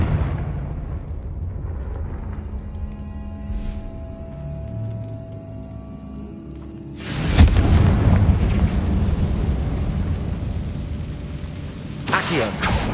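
A Confringo blast spell in Hogwarts Legacy goes off as one sudden loud explosion that breaks a quieter stretch, followed by a rumbling tail and a second smaller burst, with a person talking nearby.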